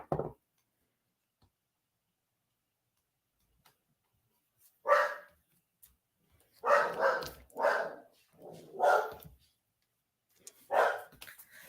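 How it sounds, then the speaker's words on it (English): A dog named Leo barks several times, close and loud, in short bursts spread through the stretch with quiet gaps between them, after one brief yelp at the start. "Crazy dog."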